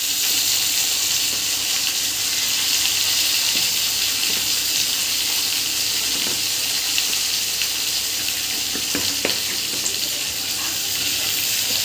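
Cauliflower, potato, eggplant and radish fry in oil with mustard seed tempering, a constant dense hiss and sizzle with a few faint pops, loud and close, and no talking.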